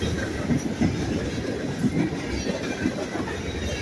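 CSX M410 freight train passing eastbound by Elsmere Junction, railcars clattering in a close, rhythmic clickety-clack of wheels over rail joints, a loud, steady rolling rumble with no talk.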